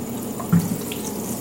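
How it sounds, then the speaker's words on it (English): Soapy water running and splashing steadily while a car surface on a 2024 Acura Integra is wiped clean, a close, continuous wet wash sound with a brief swell; no talking. "I'm going to go back with a little bit of soapy water and just kind of clean that up."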